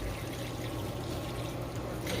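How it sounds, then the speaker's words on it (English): Water from boiled red herring is poured off from a pot in a steady, continuous splashing stream, close and fairly loud, with no talking. "I'm gonna throw off all that water off the red herring."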